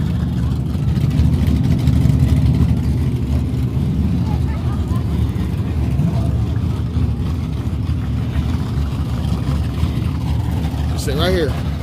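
Turbocharged 5.3 LS engine swapped into a Chevrolet C10 pickup runs with a steady low rumble, a high turbo-like whistle rising briefly near the end, while people talk over it.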